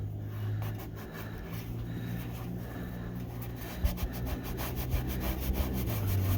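A rag wiping around the oil drain plug of a pickup truck: steady, close rubbing and scraping strokes with a few soft knocks toward the end, over a low background hum and no talk.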